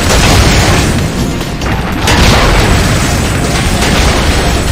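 A direct hit in the Liberation Maiden shooter game sets off a loud, rumbling explosion whose heavy booming roar carries on for several seconds with barely a pause, mixed with other game noise.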